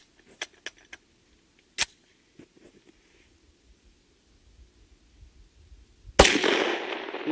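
A stock Glock 20 pistol fires a single 10mm bear-load round near the end, a loud sharp blast with a decaying tail, after several faint clicks and handling knocks in quiet surroundings.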